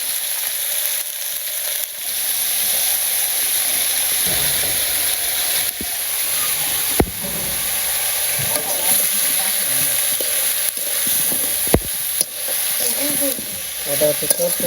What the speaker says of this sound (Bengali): এটা হচ্ছে চচ্চড়ি রান্না